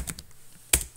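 Computer keyboard typing code, a few quick close key taps clustered at the start and another sharp tap near the end, quiet otherwise.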